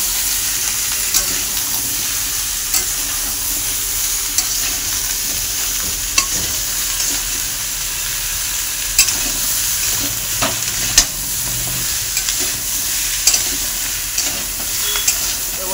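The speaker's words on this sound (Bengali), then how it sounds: "ভালো করে ভেজে নেবো পটলটা।" Pointed gourd frying in a pan with turmeric and salt, a continuous sizzle with regular scraping strokes of a spatula stirring, close and steady throughout with no talk.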